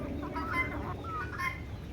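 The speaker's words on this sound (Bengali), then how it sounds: "এই যে দেখুন টোপাল্লা মুরগি" Desi chickens in a farm yard cluck softly and repeatedly, faint and close, with no talk.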